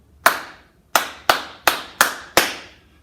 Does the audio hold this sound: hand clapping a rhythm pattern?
yes